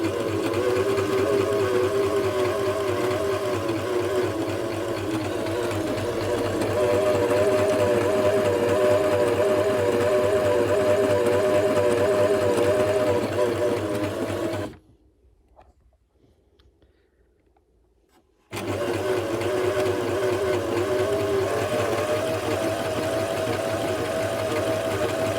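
A Janome 423S sewing machine runs an overedge stitch in a steady loud whir, stopping for a few seconds of near silence before starting up again.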